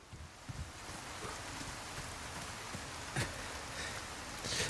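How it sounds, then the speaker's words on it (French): Heavy rain pours down in the video game Resident Evil 4, a steady dense patter of drops on surfaces with faint wind, fairly quiet and unbroken, with a few soft thuds scattered through. "Il pleut comme vache qui pisse."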